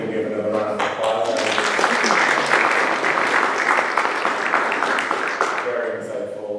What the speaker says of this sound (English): I think we can give another round of applause.